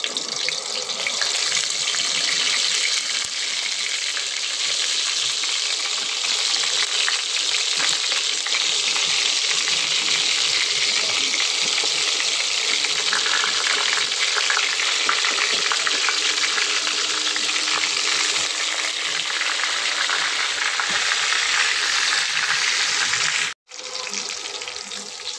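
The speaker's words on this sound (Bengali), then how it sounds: "এরপর আমি তেল দিয়ে বেগুনগুলো ভেজে দেবো" Eggplant slices frying in oil in a kadai, a dense hissing sizzle holding steady and loud for a long stretch, close up, with a brief cut near the end.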